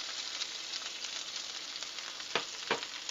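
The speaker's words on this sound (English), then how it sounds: "Listen to that sizzle." Steady, bright sizzling of blanched green beans frying in hot oil, with a couple of sharper crackling bursts near the end and no talking.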